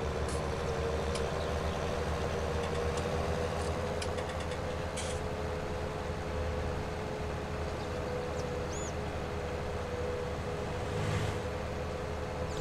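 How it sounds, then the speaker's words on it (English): A small tractor's engine in Farming Simulator 19 drones steadily at a constant low idle-like hum, with faint clicks and light mechanical clatter over it, and no talk. "This is a smaller tractor."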